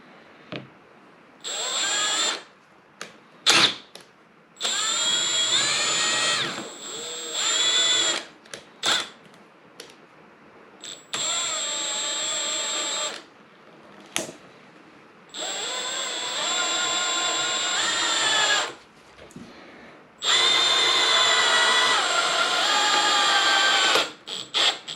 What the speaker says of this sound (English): So now I'm going to screw this in place.